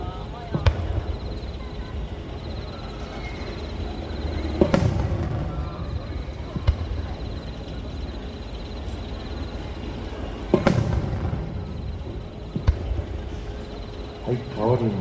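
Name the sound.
fireworks display, sazanami (ripple) fireworks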